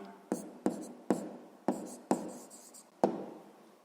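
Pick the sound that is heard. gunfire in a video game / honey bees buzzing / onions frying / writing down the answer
writing down the answer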